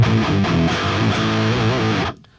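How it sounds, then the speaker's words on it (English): Electric guitar run through an octave-divider effect plugin, a thick distorted tone with a doubled low octave playing a steady riff for about two seconds before cutting off abruptly. "if I load up a Nunchuck Octaver sound"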